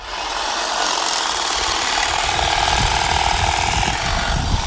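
An AL-KO HT 1845 18 V cordless hedge trimmer cuts grass, giving a loud, continuous close buzz with rough chattering from the blades throughout.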